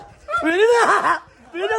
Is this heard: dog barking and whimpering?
yes